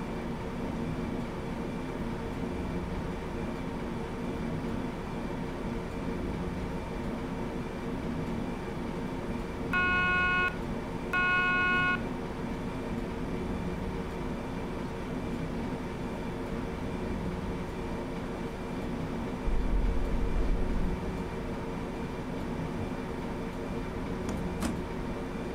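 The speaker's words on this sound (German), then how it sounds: "Die Lok, wir fahren eine DB Baureihe 111." A DB class 111 electric locomotive running in a train simulator game, a steady low cab rumble and hum throughout, with two short electronic tone blips partway through and a brief deeper thump later on.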